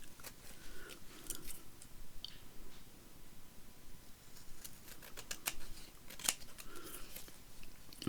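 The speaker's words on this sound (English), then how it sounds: "now we can trim all the bits out that's in the windows where we don't want them to be" Scissors trim paper ephemera for junk journaling, a string of faint, close snips and crisp paper cuts at an uneven pace in a quiet room, with no talking.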